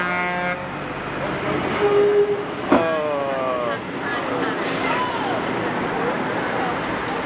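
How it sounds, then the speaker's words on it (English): NASCAR hauler trucks roll past in a street parade in Sacramento, a steady engine and traffic rumble with one short horn toot partway through, while people talk nearby. "Wow, that's a pretty red truck."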